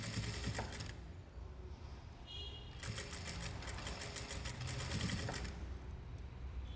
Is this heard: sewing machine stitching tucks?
yes